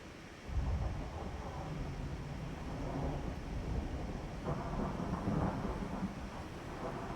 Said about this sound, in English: The sound of thunder makes me so sleepy.